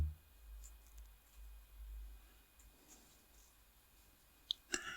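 A computer mouse clicks twice in quick succession near the end, small sharp ticks over a quiet room hum.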